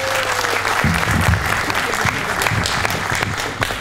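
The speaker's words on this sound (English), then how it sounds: "Round of applause for our diamond sponsor," A conference audience at an application security event applauds a diamond sponsor, dense steady clapping throughout with a few brief murmurs and a low hum underneath.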